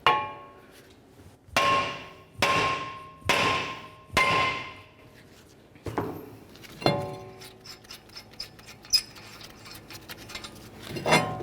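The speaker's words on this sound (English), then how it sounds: "Now we're going to use a hammer and we're going to carefully bonk along this area right here." A hammer tapping along the steering knuckle of a 2014-2020 Nissan Rogue during a front wheel hub bearing replacement: five sharp ringing metal strikes evenly spaced, then a quicker run of lighter taps, close and loud, with no talking.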